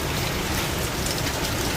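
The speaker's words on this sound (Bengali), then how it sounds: "বৃষ্টি হচ্ছে এখন।" Rain and hail pour down outdoors in a dense, continuous hiss of drops striking surfaces, close and loud and unbroken for the whole short stretch, with no voices.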